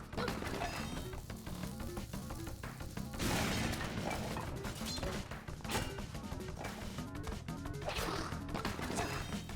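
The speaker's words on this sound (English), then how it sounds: "sword then bomb, sword then bomb," Sword strikes and bomb explosions in Link's Awakening, a busy run of sharp crashing slashes and thudding blasts repeating over a continuous game soundtrack, with louder bursts near the middle and end.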